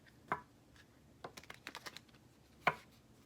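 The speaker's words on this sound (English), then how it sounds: "I just want to do a couple more shuffles right here on camera so you know that I'm shuffling." Tarot cards being shuffled by hand in a quiet room: a sharp riffle burst near the start, a quick run of soft flicks in the middle and another crisp riffle near the end, all fairly close.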